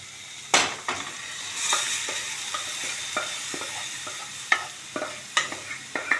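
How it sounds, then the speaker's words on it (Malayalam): Cooked chicken goes into a hot pan and is stir-fried, with a soft continuous sizzle under repeated scraping and clinking strokes of a spatula against the pan, close and fairly quiet, with no talk. "ഞാൻ എൻ്റെ ചിക്കൻ വേവിച്ചത് ഇതിലേക്ക് ഇടുകയാണ്"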